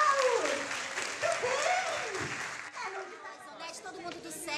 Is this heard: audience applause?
yes